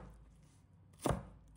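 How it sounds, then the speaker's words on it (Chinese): A single quick knife chop through carrot on a board, one short solid thunk near the end of an otherwise quiet stretch. "再准备适量的胡萝卜，把它切成小块。"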